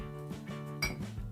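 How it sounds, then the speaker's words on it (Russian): A glass jar picked up and handled while preparing homemade onion, garlic and honey cough syrup, giving a few close, light clinks and knocks, with a sharper glassy tap near the end. "берем стеклянную баночку"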